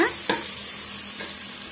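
Cut bottle gourd sautéing in a pan with tomatoes, a soft steady sizzle broken by a couple of sharp spatula scrapes and stirring knocks, close and alone without voices.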